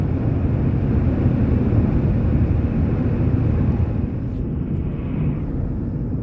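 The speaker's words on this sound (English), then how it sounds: "And listen to that diesel engine roar." A car's diesel engine roars as it drives along a quiet road at night: a steady, loud low rumble with some wind noise that eases slightly near the end.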